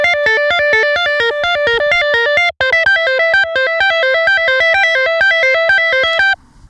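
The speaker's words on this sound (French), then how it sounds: "pouvoir jouer des mélodies parfaitement legato, avec des notes parfaitement liées les unes aux autres, sans que jamais elles se chevauchent" Monophonic synthesizer plays a legato melody of smoothly joined single notes that step up and down in a quick, even rhythm with a buzzy, effected tone, loud and alone, with one tiny break before cutting off near the end.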